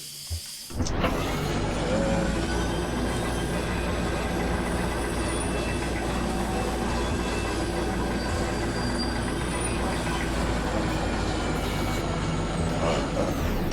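A train in the video game Kentucky Route Zero rumbles heavily to a halt on damaged tracks, a loud, continuous roar with faint metallic squeal that starts abruptly and fills the whole stretch.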